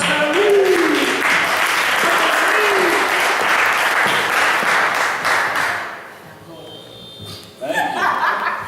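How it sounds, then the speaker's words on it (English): Loud audience applause with some laughter and cheering at a Black History celebration stage show, fading after about six seconds before voices pick up again. "How about another round of applause acknowledging all the talent we've seen so far?"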